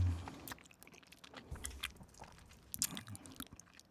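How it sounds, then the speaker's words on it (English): Gummy candies being chewed close to a microphone, giving soft wet bites and squelchy crunches in an irregular rhythm over about four seconds, with no talking. "I'm just gonna listen to you chew gummies for a minute."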